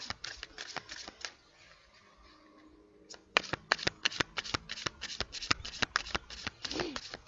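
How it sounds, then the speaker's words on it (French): Tarot cards being shuffled close up: a quieter stretch of soft riffling, then a long run of rapid, crisp card snaps at a steady rhythm, with no talking. "je bats toujours beaucoup mes cartes"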